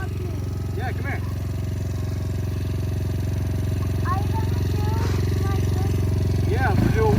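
A Yamaha dirt bike engine runs loudly and steadily near the listener, holding a rough, buzzing drone that builds slightly toward the end, while children talk over it.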